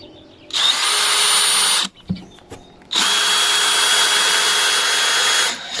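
A power drill drives bolts into a wooden picnic table built from mixed old and new timber, in two loud sustained whirring bursts separated by a brief gap with a few knocks.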